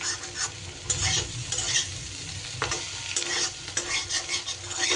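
Potato pieces fry in oil with a steady close sizzle while a utensil stirs them around the pan in repeated scraping strokes, with no talking.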